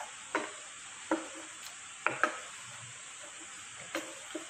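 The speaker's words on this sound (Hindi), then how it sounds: "अब इसको फिर हम दोबारा हीट पे ले जाएंगे। अब इसको हम कुक करेंगे।" Homemade pizza sauce paste cooks in a pan on the stove with a soft, steady sizzling hiss, broken by a few sharp scraping stirs spaced a second or so apart.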